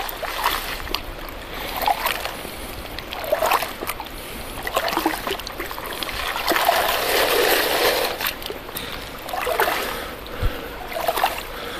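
River gravel is rinsed through a gold dredge sluice, water trickling and splashing in uneven surges over the stones, close and moderately loud without speech.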